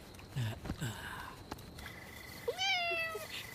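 Two cats meow: a high drawn-out meow near the end follows softer earlier cries, with faint rustling and a few light taps in between.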